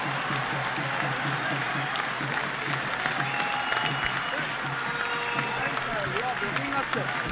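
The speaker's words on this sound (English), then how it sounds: "Standing ovation for a special player." A schools rugby crowd at Trinity College versus Royal College's Bradby Shield match gives a standing ovation, a dense, sustained wall of clapping and cheering from the grandstand, with scattered shouts and whistles over it throughout.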